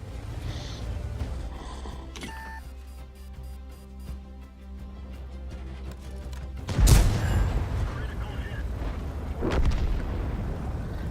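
AMX 13 90 light tank cannon firing in World of Tanks, a loud boom with a rolling rumble over steady engine noise, followed a few seconds later by a second, softer blast.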